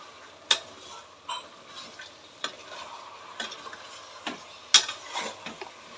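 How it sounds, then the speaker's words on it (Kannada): A spoon scrapes and knocks against a pan while broad beans and fenugreek leaves are stirred with chilli powder, giving irregular clinks and taps over a soft frying hiss. "ಚೆನ್ನಾಗಿ ಈ ಥರ ಮಿಕ್ಸ್ ಮಾಡ್ಕೊಳ್ಬೇಕು"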